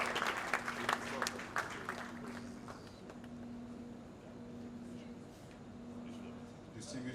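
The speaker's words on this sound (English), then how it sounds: "Round of applause for Jofel Prema for giving us this opportunity." Audience applause at an Indomie Independent Kids Award ceremony in 2016: moderate, fairly steady clapping from a crowd, strongest in the first seconds, then thinning into scattered claps with a low hum and murmur beneath.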